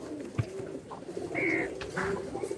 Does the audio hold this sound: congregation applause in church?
no